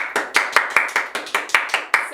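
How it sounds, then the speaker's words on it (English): Steady hand clapping from a small group, sharp claps in an even rhythm of about five per second, close and fairly loud, with no voices. "Round of applause, you did a great job, everyone."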